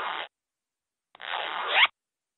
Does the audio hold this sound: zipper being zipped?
yes